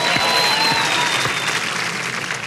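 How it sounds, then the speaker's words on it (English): Studio audience applause on a TV game show, a steady wash of clapping from a crowd that holds evenly for a couple of seconds at moderate volume. "he was applauding himself right now, as you saw, ladies and gentlemen, but it wasn't a real vigorous applause"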